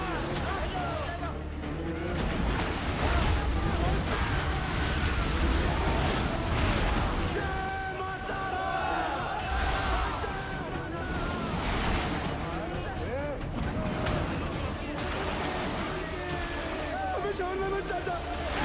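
River water flows and splashes around a boat during a crossing, a continuous rushing, washing sound with wind noise against the microphone throughout, and voices talking now and then over it.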